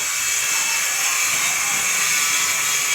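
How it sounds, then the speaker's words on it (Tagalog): Power tools at a nearby house construction site give off a steady, loud, high mechanical whine and buzz that runs the whole time without pause, with no speech over it. "Mayroong house construction malapit sa akin."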